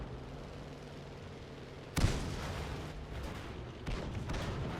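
A tank cannon fires in World of Tanks, a single sharp loud boom followed by a rumbling tail, then a second heavier thump about two seconds later over steady engine drone.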